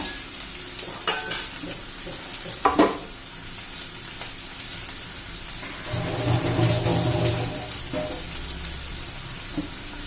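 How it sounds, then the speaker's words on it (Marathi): Onion and green chillies sautéing in a pan, giving a steady close sizzle with a few stirring clatters and a louder frying swell later on. "आता कांदा घालू हिरवी मिरची कांदा मिरच्या पण हे करून परतून घेऊया"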